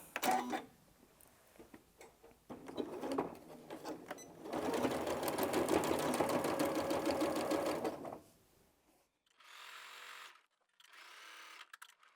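A sewing machine stitches the binding of a small quilted mug rug in short bursts, a brief run, a longer steady whir, then two quick back-and-forward stitching bursts after a pause, close and clear.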